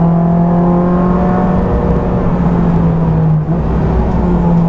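A car accelerating on a road while bedding in new PBS brake pads, a loud steady engine drone with rising harmonic tones and wind and road roar, continuous and close, with no talking.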